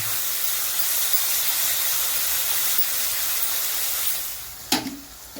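Spice paste frying in oil in a pan while cooking Bengali aar fish curry, a steady broadband sizzle and hiss running continuously, easing off near the end with a brief clatter.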